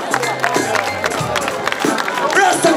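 A festival crowd at a live reggae show in Rotterdam claps and cheers, a dense roar of hands and voices under a performer's amplified talk.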